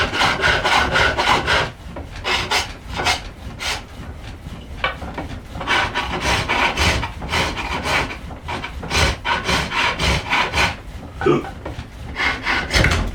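A small gouge cutting a wooden stool stile on the lathe makes rapid, rhythmic scraping strokes, close and fairly loud, repeating steadily with a few brief pauses and no talking.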